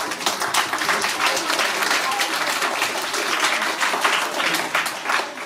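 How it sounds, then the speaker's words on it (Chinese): Sustained applause from an audience at the 2021 Tianfu Bronycon DarkStar Prize presentation ceremony, dense steady clapping filling the hall throughout without a break. "我们大家一起给点掌声鼓励一下"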